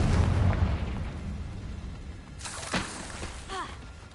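Confringo fire spell explosions in the video game Hogwarts Legacy: a dense rumbling blast bed with a couple of sharp bursts and crackles near the end, loud and close, no voices over it.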